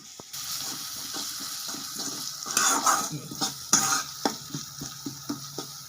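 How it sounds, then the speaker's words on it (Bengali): Ginger-garlic spice paste frying and being stirred in a small pan, with steady sizzling under repeated scraping and clinking strokes that grow louder midway. "আমি ভাজি ততক্ষণ মশলাটা"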